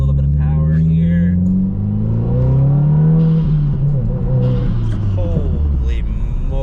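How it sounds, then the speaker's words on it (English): A 2022 Subaru WRX accelerating hard, its engine note climbing steadily as revs build from inside the car, loud and continuous with road rumble beneath. "Let's give it a little bit of power here."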